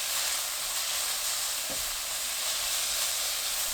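Garlic and burdock stir-frying in a pan over medium heat, a steady broadband sizzle throughout with a brief utensil scrape near the middle, close and continuous with no talking.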